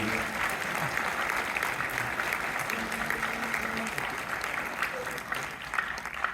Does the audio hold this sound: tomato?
no